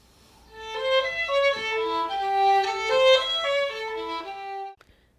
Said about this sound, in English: So this is the opening of the sonata.